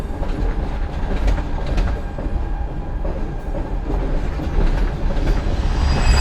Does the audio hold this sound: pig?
no